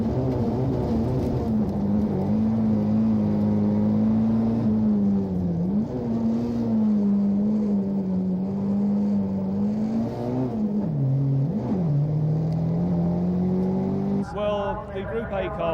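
Ford Sierra Cosworth RS500 Group A rallycross car in Division 1, heard onboard: a loud, steady engine drone holding high revs with brief dips and recoveries around gear changes, continuous throughout.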